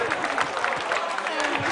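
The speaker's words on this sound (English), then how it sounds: "the clapping is not stopping" An audience claps persistently at a storytelling night for a beauty pageant, the dense applause mixed with crowd noise and a voice talking over it.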